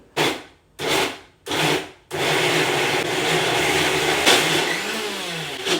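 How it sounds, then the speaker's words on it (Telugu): A mixer grinder blending beetroot whirs in three short pulses, then runs continuously in a loud, steady grinding roar until the end. "అదే మిక్సీ జార్ తీసుకొని బీట్రూట్ మిశ్రమాన్ని కూడా మెత్తగా మిక్సీ పట్టుకోవాలి"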